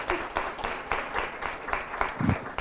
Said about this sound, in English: Let's have a round of applause for Sequin.